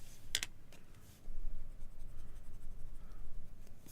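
A sharp pencil scratches across paper at close range during a sketch, with a few quick strokes at first and then soft continuous shading.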